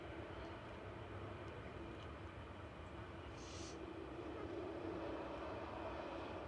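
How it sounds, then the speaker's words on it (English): A Vueling Airbus A321 Classic jet airliner touching down at Manchester Airport makes a faint, distant, steady rumble with a brief hiss partway through, low in level and without talk. "touching down is Vueling from Barcelona"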